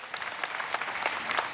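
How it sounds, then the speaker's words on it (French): A crowd in Puerto Maldonado, Peru, applauds a 97-year-old grandmother: a short, fairly faint stretch of steady clapping from many hands, with no voices over it. "Il faut l'applaudir,"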